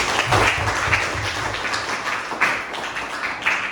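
Schoolchildren in a classroom clap for a classmate during a religion lesson, a busy, uneven patter of small hands close by that rises and dips in short waves.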